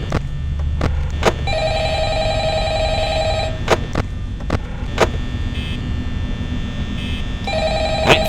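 An in-game telephone rings in Five Nights at Freddy's, its repeated electronic bursts sounding clearly over a steady low hum, interrupted by several sharp clicks.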